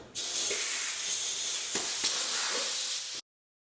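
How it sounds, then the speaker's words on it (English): Air hisses out of a leaking weld on a Polygon Siskiu D24X bike rim, a loud, steady, close hiss lasting about three seconds before cutting off abruptly into silence. "I think we found the source of the air leak. It's not actually the valve, it is the weld."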